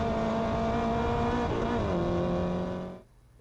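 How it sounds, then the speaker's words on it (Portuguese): A race car at a Brazilian junior motorsport event screams past on the track at high speed, its loud engine note dropping in pitch as it goes by before fading abruptly. "Essa câmera deu uma ideia da velocidade ali do Arthur Guilherme nas pistas"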